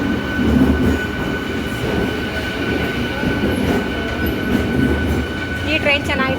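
Passenger train arrives and runs through a station with a steady, loud rumble of wheels and carriages and brief high squeals near the end, while voices murmur in the background.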